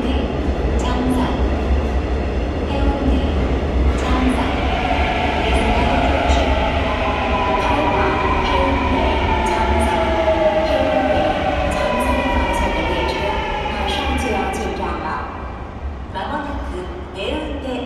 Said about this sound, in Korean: 해운대 정상인 열차가 들어오고 있습니다.